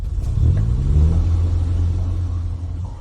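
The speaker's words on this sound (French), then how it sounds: "C'est une voiture." An armored car drives up and arrives, its engine rumbling low and steady, fairly close and loud, swelling briefly before settling into a constant drone.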